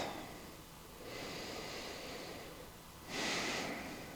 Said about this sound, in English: we're just gonna breathe, breathe, breathe, breathe